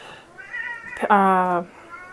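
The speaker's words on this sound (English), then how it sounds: "My cat." A pet cat meows loudly and close by, one drawn-out harmonic call with a softer mew before it, heard in a home kitchen while air fryer maple glazed donuts are being prepared.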